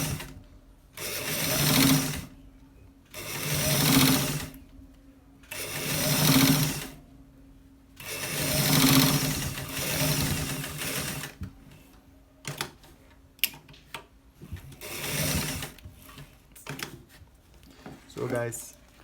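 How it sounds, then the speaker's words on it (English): A sewing machine stitches a shirt collar in repeated close bursts of about two seconds each, with short pauses between runs, ending in a few light clicks. "We are stitching it straight to the end."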